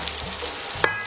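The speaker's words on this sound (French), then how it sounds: "On fait un petit blond gentil comme ça sur les oignons" Onions gently sautéing to a light golden colour in a pan, a soft, even sizzle with one brief utensil tap near the end, close and without speech.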